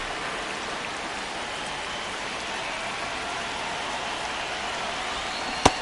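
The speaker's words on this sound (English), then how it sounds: "It feels like we might be headed towards a rain delay if the weather doesn't ease up, Chris." Steady rain pours on a surface in a baseball video game, a continuous even hiss filling the scene with no talk, ending in one brief sharp knock.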